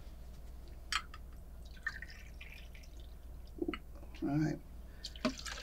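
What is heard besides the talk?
pouring shots of Patron tequila for margarita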